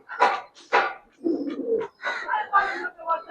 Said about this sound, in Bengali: লাল পাত্তি কবুতর ভাই